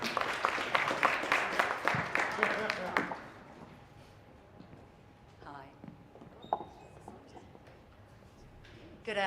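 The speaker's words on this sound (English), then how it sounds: "Now you can clap" Scattered applause from an audience on a Zoom call at a startup pitch night crackles densely for about three seconds, then fades into quieter room sounds and voices.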